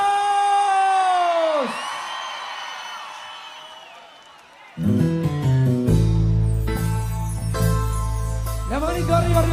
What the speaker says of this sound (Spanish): Y quiero el grito de Río Gallegos, porque así suena.